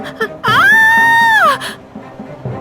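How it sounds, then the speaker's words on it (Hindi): A woman lets out one loud, sustained high-pitched scream lasting about a second within a Hindi horror story, with a few quieter sounds before and after. "चीख क्यों रही हो?"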